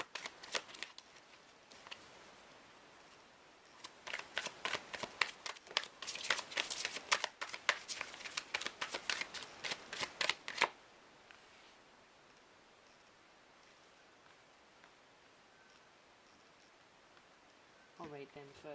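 Tarot cards are shuffled for a reading in a rapid riffling flutter of dense paper slaps, building over several seconds before stopping abruptly, then quiet room tone with a brief voice at the end.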